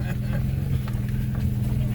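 A two-wheel-drive vehicle in the Maine woods drones with a steady, low engine rumble as it pulls free and moves off, with voices faintly present beneath the engine.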